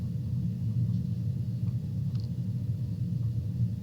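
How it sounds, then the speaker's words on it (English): Thunder rolling in during a thunderstorm, a low, continuous rumble that holds steady throughout without sharp cracks, fairly faint and heard alone. "There's thunder rolling in."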